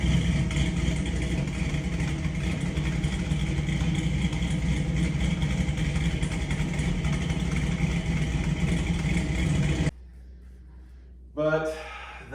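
A race car engine with a new carburetor idles steadily and loudly for about ten seconds with a dense, even mechanical drone, then cuts off abruptly, followed by a brief voice.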